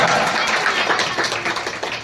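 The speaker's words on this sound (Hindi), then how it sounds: "इनके लिए जोरदार तालियां, जोरदार तालियां का मतलब जोरदार तालियां" A crowd claps at a school farewell and results ceremony, a dense, loud patter of many hands that carries through the whole short moment and fades slightly at the end.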